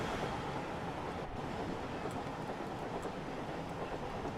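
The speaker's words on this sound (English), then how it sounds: "Oh, there's a Pendolino." A Pendolino train rushes past in Train Sim World 5, a loud, steady broadband roar of rolling stock and wind filling the whole stretch without a break, close and continuous with no voices.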